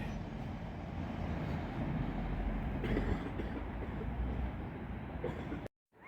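A Class 800 train rumbles through Northallerton station, giving a steady, moderately distant rolling roar before it stops abruptly.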